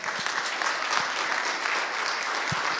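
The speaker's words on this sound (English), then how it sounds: "let's give a round of applause to the one and unique Sophie MICHELENA" A conference audience applauds a speaker, a dense, steady wash of many hands clapping that carries on evenly for a few seconds, with no voices over it.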